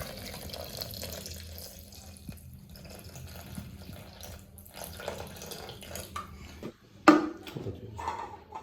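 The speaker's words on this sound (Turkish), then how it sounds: "Bu 500 gram suyu koyuyoruz" Water, 500 grams of it, pours into a Thermomix bowl for lemonade in a steady, splashy stream close by, ending with a brief clunk.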